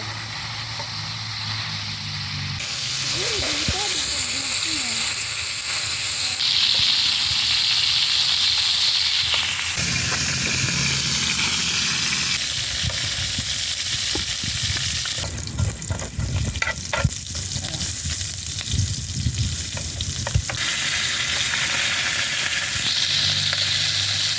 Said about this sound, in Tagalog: Prito na natin ang ating manok.